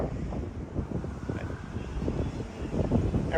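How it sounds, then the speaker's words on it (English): Strong wind buffets the microphone outdoors at a city street protest, a constant rough rumble throughout with no clear talk. "I know it's a little bit windy"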